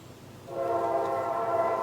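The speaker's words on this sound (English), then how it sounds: "Sorry for the train in the background" A train horn blares out across a home garden, cutting in halfway through as a loud, sustained chord over low rumbling.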